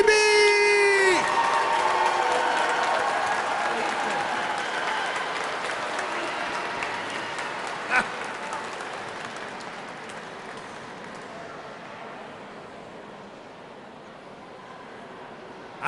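Loud crowd applause and cheering for Governor Mike Beebe at a Martin Luther King Jr. commemorative vigil fill a large, echoing space, gradually fading over time, with scattered whoops.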